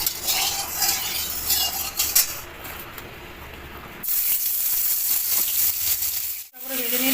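Prawns frying in hot oil for Bengali prawn malai curry, a bright crackling sizzle with spatter, dropping away briefly before the spitting resumes, with a few utensil sounds.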